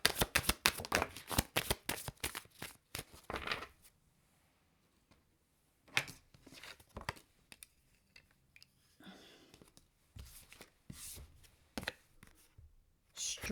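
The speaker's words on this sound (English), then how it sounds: "I need 3 shuffles for a good mix." Tarot cards shuffled in quick riffling bursts, with dense crisp rustles at the start, a pause, then several more bursts of brisk shuffling, close and clear.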